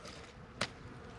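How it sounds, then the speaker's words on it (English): Honeybees buzzing around a flowering Mahonia shrub in winter, a faint steady hum with one bee briefly passing close by, no voices. "Our Mahonia is absolutely alive with honeybees."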